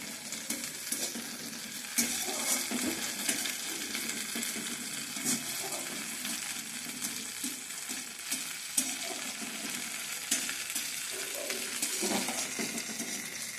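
Food frying gently over a low flame in a pan: a constant, moderate sizzle and crackle lasting the whole stretch, with soft stirring scrapes and occasional small clicks.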